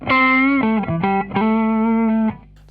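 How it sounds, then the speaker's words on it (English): An electric guitar through a compressor effect on an original Line 6 Pod plays a short run of sustained notes with audible distortion. The notes are loud, close and clean-edged, then fade into a brief quiet tail. "let's have a listen to the compressor without the reverb on"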